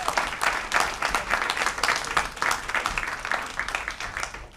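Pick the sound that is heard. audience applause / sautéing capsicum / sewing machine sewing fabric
audience applause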